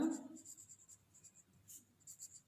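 A pen scratches out an answer during a Grade 5 computer lesson, with quiet, intermittent writing strokes close by and no talking.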